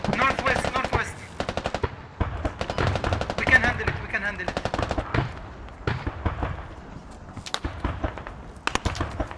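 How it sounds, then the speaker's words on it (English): Machine gun fire in the Squad military shooter, long rapid bursts of loud, close automatic shots with short pauses between them, and voices talking over the firefight. "I think it's just a machine gun team."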